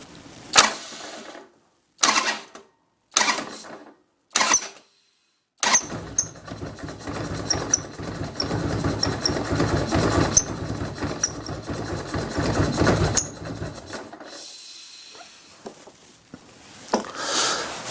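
A 1994 Harley-Davidson Evo engine on an Electra Glide with an engine fault cranks in several short attempts, then catches and runs roughly for several seconds before cutting off, heard up close.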